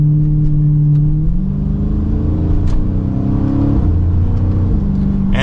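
A 2023 Chrysler 300C with a 6.4L engine and paddle-shifted 8-speed revs up through the gears, a loud, close, deep exhaust note rising in pitch with audible shift drops in between.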